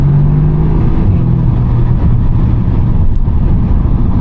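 A 2014 Audi S3 8V with a 290 PS engine and S-Tronic dual-clutch gearbox pulls hard from inside the cabin, a loud sustained engine drone whose pitch drops sharply as it shifts quickly.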